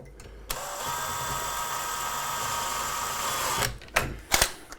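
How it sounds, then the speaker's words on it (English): A power drill whirs steadily for several seconds at close range while drilling through wood, its pitch holding even, then cuts out and leaves a few short bursts and clicks. "So I'm just going to drill."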